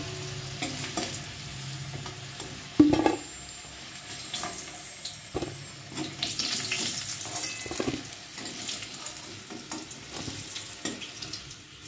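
Potatoes frying in a pan, a continuous close sizzle with occasional clinks and stirring scrapes, one sharper clatter early on.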